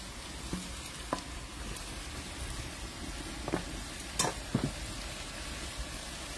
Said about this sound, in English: While that's frying up, I'll put in all these vegetables, kerrila, okra, and potatoes all together.